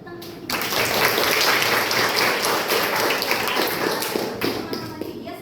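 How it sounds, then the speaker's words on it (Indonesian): Students in a classroom give a brief, lively round of clapping after a classmate's answer. The applause starts suddenly, stays dense and close for several seconds, then fades, and a few voices mingle with it. "Terima kasih, Vidya, tepuk tangan."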